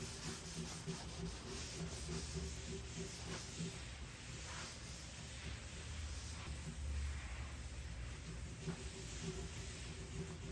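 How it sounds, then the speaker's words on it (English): Blue shop towels rub steadily over wood furniture, wiping back excess gel stain on a French Provincial piece, as a faint, continuous scuffing close by with no talking. "I'll just wipe off the excess with my blue shop towels."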